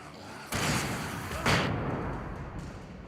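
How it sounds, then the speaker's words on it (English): A flashbang grenade goes off in the video game Alan Wake, two heavy broadband bursts about a second apart, each a loud thudding blast that rings out over a continuous noisy game background. "Flashbang going out."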